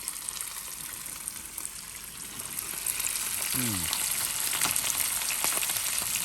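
Freshly caught, scaled and gutted whiting frying in a pan at a creek-side camp on K'gari, a constant close sizzle and crackle of hot oil with a brief gurgle partway through.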